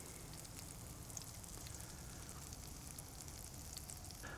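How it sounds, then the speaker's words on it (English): Ruby Sensation potatoes fry in bacon fat in a pan while camping, giving a steady, quiet crackling sizzle with tiny pops throughout and no talk. "Going in with these Ruby Sensation potatoes. And yes, they're going to be cooking in bacon fat."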